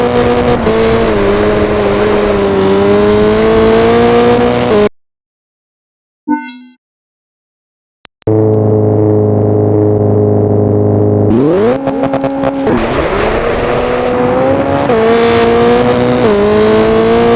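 A race car engine in the Richard Burns Rally video game revs loud and close, its pitch climbing and dropping with the throttle. It cuts to near silence for a few seconds, then roars back and accelerates again.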